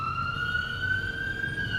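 An ambulance siren holds a steady, sustained high tone without pause for the whole stretch, fairly loud, over a low rumble of background traffic.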